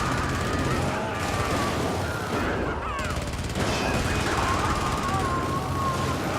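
Teammates fire guns nearby in a close-quarters video game firefight, with dense, continuous bursts filling the whole clip. A siren-like whine rises over the shooting, and a voice talks faintly under the noise.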